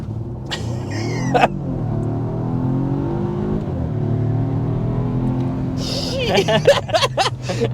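A 2023 Volvo S60 Recharge sedan with 455 horsepower hums and builds steadily, rising into a throaty hard acceleration with revving at the end, heard from inside the cabin.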